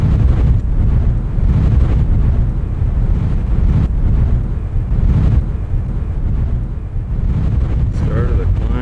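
Strong mountain wind in the Roan Highlands buffets the microphone in a constant low roar, gusting heavily throughout with a faint voice underneath near the end.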